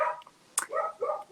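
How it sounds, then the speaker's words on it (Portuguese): A dog barks several times in quick succession somewhere in a home, the short yaps fairly faint and slightly distant, with no speech over them. "o cachorro tá latindo, desculpa."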